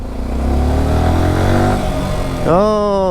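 A motorcycle ridden close through narrow back lanes, its engine droning steadily at low pitch, then revving up sharply near the end with a rising whine; no talk in the clip.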